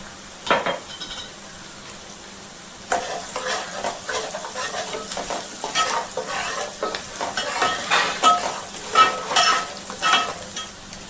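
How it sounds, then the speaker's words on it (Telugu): A spoon stirs curry leaves into a sizzling fish curry in a pan, giving a steady hiss of frying under repeated scraping and clinking strokes, close and fairly loud, with no talk. "కరివేపాకు వేసుకుని బాగా కలుపుకోవాలి."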